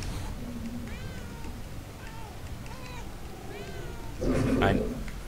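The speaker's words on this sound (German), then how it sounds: "Oder bringt uns das was, wenn wir hier miauen?" Cat meowing inside the video game Murdered: Soul Suspect, several short rising mews spread across the moment over a steady game ambience, ending in a louder burst of noise.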